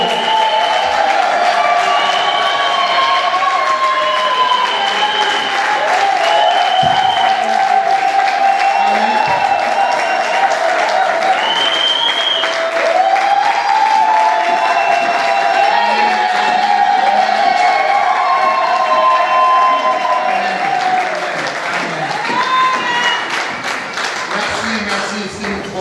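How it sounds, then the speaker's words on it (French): Church congregation applauding and cheering as a pastor comes forward, a steady loud wash of clapping with scattered whoops and shouts lasting throughout, easing slightly near the end. "Et il avance, nous acclamons pour la gloire de Dieu."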